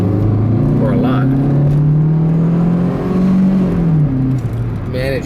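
A 2.0-liter four-cylinder car engine runs steadily and climbs gently in pitch as it is given some throttle, close by and loud, with someone talking over it throughout.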